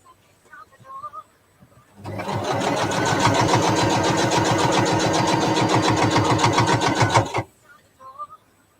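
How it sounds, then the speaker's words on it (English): A sewing machine stitches the seam of a fabric hot bowl holder in one steady run of about five seconds, a loud close rapid whirring chatter with soft sounds before and after. "Just got to make sure that seam stays closed when you're stitching."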